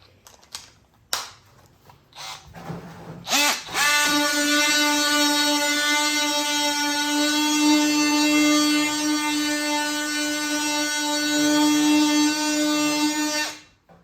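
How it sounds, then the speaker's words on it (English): A DEWALT 20V Max XR oscillating multi-tool fitted with a sander attachment buzzes loudly and steadily for about ten seconds after a few clicks and taps, then winds down. "let's put the sander on. Let's see what the sander does."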